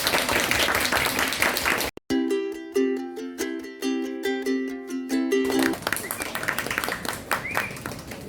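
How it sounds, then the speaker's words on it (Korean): An audience at a coffee talk claps for the next speaker; brisk applause at the start is cut by a bright musical jingle, then clapping resumes strongly and carries on to the end. "그럼 이제 박수 부탁드립니다."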